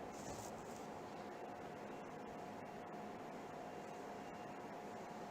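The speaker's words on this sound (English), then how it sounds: "And now the turbo pump is accelerating after the roughing pump has created a base vacuum" A turbo pump in an e-beam evaporation system spins up after the roughing pump reaches base vacuum, giving a steady whirring hum with a faint high whine, constant and unbroken throughout.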